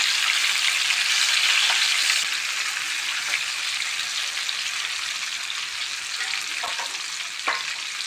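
Stuffed brinjals fry in hot oil, a steady dense sizzle and crackle filling the pan, louder at first and then settling, with a few faint clinks near the end.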